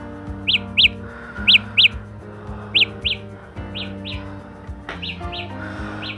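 Samsung Galaxy Buds Live Find My Earbuds alert, a series of sharp high chirping beeps in pairs and short runs over a steady low hum, loud and close.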